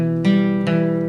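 A single strummed acoustic guitar chord rings out, then a second strum falls near the end of a beginner lesson; close, loud and sustained, with no voice.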